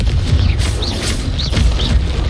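Rapid booming Confringo spell blasts in Hogwarts Legacy come in quick succession, loud and close, mixed with whooshing magical bursts and a dense game-combat rumble throughout.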